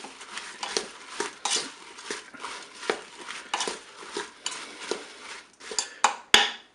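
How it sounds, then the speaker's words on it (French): Apples, orange segments, sugar and water stirred together in a Cookeo pot, rhythmic wet scraping of a utensil against the pot, close and alone, ending with a sharp clink. "Et on mélange tout ça."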